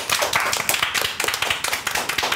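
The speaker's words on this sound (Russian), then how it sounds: "Аплодисменты." Studio audience at a Russian quiz show for exam teachers bursts into dense, sustained applause, many hands clapping steadily and loudly throughout with no talk.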